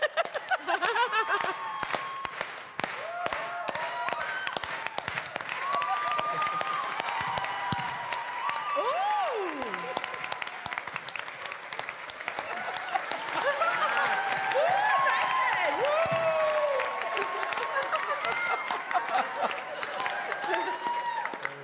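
An audience at a charity telethon claps steadily in the background, with chatter and bursts of laughter and voices mixed over the continuous clapping.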